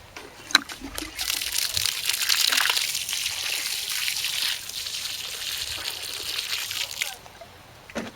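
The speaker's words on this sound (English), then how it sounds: "Now once they're all in, we'll give them a good water." Water pours and splashes onto newly planted sweetcorn and kohl rabi on an allotment, a moderately loud continuous gush lasting several seconds with a few sharper splatters at the start.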